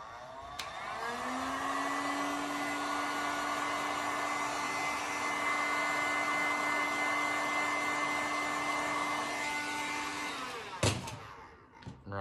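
Heat gun blowing hot air onto painted material being bent for a crackle paint finish: a steady, loud whirring blow lasting about ten seconds, then cutting off with a brief clatter.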